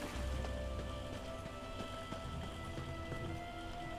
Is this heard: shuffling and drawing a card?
no